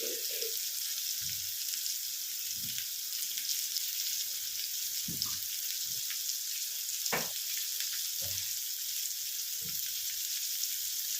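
Fish frying in oil with a little salt added, a constant close hiss and sizzle with a few soft low knocks from the pan.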